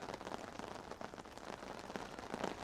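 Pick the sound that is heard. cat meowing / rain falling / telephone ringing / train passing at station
rain falling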